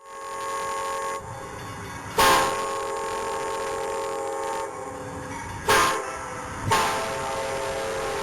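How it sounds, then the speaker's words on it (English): Amtrak passenger train number 303 rumbles by steadily in Illinois while its horn blasts three times, loud and close, with the rolling noise continuing between blasts. "I managed to catch a late Amtrak and Rutledge train number 303."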